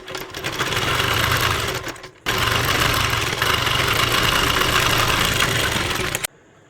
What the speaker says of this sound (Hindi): अब यहाँ पर हम किनार की सिलाई चलाएंगे